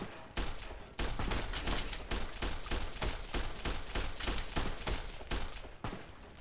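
Sustained automatic assault rifle fire in Fallout: New Vegas, loud rapid bursts rattling almost continuously over several seconds with only brief gaps, no talk over it.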